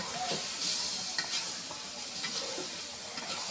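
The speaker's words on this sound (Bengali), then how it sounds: "এতক্ষণ আমি লাড়তে আছি" Small chicken pieces sizzle and fry in spices as a spoon stirs through them, a steady close hiss with soft scraping strokes and no talking.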